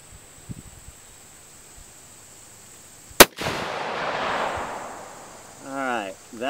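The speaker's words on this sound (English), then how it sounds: "We're gonna fire a few rounds down range and see how we do here." One sharp, loud rifle shot from a Savage 110 Tactical in 6.5 Creedmoor fired downrange outdoors, its crack rolling into a long fading echo across open ground, with brief talk starting near the end.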